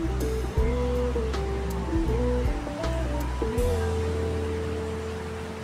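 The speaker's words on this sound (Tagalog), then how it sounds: "Malakas yung agos talaga yun." Strong current of the Marikina River rushing steadily at night, a dense continuous wash of water noise with faint low tonal hum beneath, holding evenly for the whole stretch.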